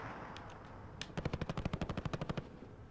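A rapid automatic burst of about fifteen evenly spaced shots rings out in Call of Duty: Warzone, loud and close, after a single earlier shot, with no voices over it.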